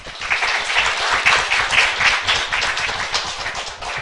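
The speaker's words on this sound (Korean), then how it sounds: "목사님 나오실지 박수로서 환영하겠습니다." A Korean church congregation gives loud, sustained applause to welcome a pastor, many hands clapping in a thick, continuous roar close by.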